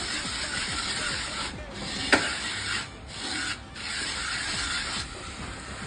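Fine salt rubbed across a hot dosa griddle gives a steady, close gritty rasping that runs almost without a break, with a few brief dips and one sharp tick partway through.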